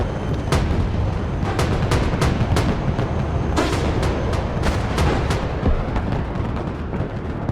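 Repeated artillery and heavy gunfire booms in the military strategy game Broken Arrow, sharp reports landing every fraction of a second over a dense, continuous rumble of battle, loud and without talk.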